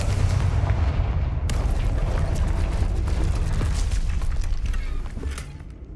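The Confringo fire spell in the Hogwarts Legacy video game sets off a dense, rumbling explosive roar that holds loud and steady for several seconds, then thins slightly at the end.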